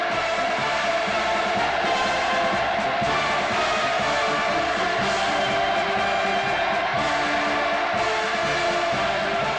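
A large crowd on a North Korean street cheers enthusiastically as a visiting president is welcomed, a continuous massed roar of shouting voices, distant and blended, holding steady without pause.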